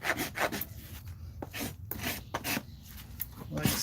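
A farrier's rasp scrapes in repeated short strokes across a horse's hoof during a trim, a rhythmic gritty rubbing at close range with brief gaps between passes.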